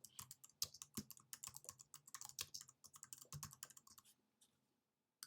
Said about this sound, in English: I simply just type that here, hit add agenda item